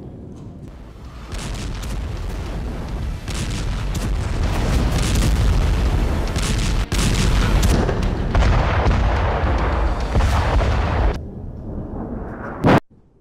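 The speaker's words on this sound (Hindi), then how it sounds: "एक साथ 12 फाइटर्स ने बम बरसाए" Heavy bombardment of Gaza by a formation of twelve fighter jets, a continuous dense roar of booms and blasts rumbling on for many seconds with one sharp final burst near the end.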